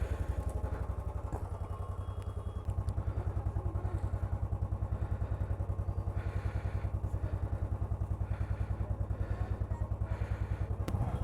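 A motorcycle engine idles just after a cold start, with a loud, close, steady rhythmic thumping that carries on alone for the whole stretch.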